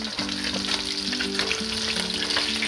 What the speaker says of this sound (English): You hear the different sound of the oil.